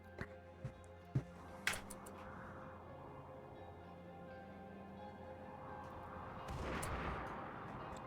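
Mortar fire in RimWorld: a few sharp, distant thumps and cracks early on, then a low steady rumble and a swelling blast near the end, all fairly faint.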